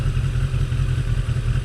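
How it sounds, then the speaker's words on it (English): A motorcycle with a sport-bike style 2-into-1 exhaust runs steadily, a low, even rumble with a faint mechanical whir, close and continuous for a brief moment. "sport bike type exhaust, which would be a 2-into-1"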